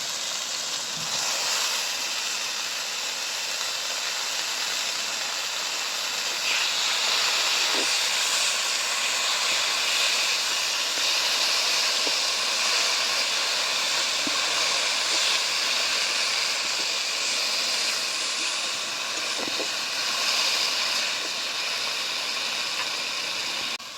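Ginger, garlic and whole red chili paste sizzling and frying steadily in a pan while being cooked down for an okra dish, a continuous close hiss with faint stirring clicks throughout.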